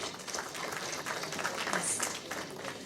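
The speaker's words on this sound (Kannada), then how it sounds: "ಚಪ್ಪಾಳೆ ಬರಬೇಕು." Audience applause at a film trailer launch event, a steady wash of clapping with some crowd noise and a faint voice beneath it.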